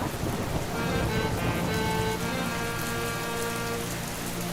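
Cartoon rain effect for a monsoon day at a vegetable market: a steady, dense hiss of rainfall with pattering drops, continuous and fairly loud throughout, with faint tonal hum underneath.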